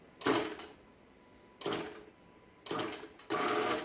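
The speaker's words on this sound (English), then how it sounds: "The Sears motor's starting to get warm, so this will be the last run down." Electric Sears motor running in bursts, starting and stopping four times with short pauses between, close and fairly loud, with no talking.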